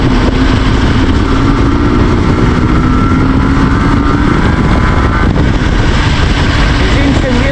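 A tuned IZh Jupiter 4 motorcycle rides in fourth gear on a winter outing. Its engine drones steadily and close, with a whining tone that slowly climbs in pitch under constant wind and road roar.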